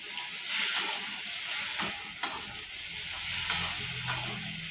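Ground mustard paste hits dheki greens in a hot pan, giving a steady close sizzle with a few sharp spatula scrapes and clicks as it is stirred, no voices.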